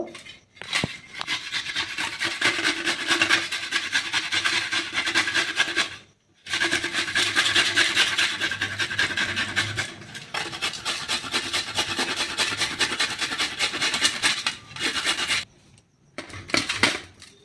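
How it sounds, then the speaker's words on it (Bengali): Ginger root rubbed hard against a metal grater for a paratha, a steady, dense rasping scrape that runs close and loud, broken by two short pauses, with no talk. "এবার আমি এগুলোকে, এই আদাটাকে ভালো করে ঘষে নেব।"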